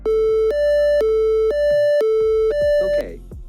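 Simulated siren from a Circuit Playground Express board in its simulator, alternating two pure electronic tones in half-second steps, loud and steady, then cut off abruptly.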